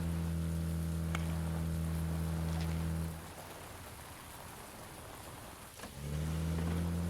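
Rain falling in the video game PUBG, a steady hiss under a droning vehicle hum that drops out for a few seconds midway and then returns.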